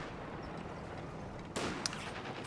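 Machine gun fire rattles out in a sudden burst from a building during a Company of Heroes 2 battle, loud and close after a steady low rumble, with a second brief crack soon after.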